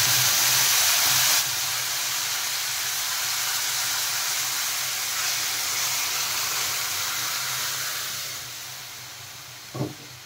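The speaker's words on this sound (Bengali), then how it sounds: "এখন আমি ডাল ঢেলে দিয়ে দেব।" Moong dal is poured into a hot spice tempering for a Bengali sukto, raising a loud close hiss and sizzle that gradually fades, followed by a brief soft knock near the end.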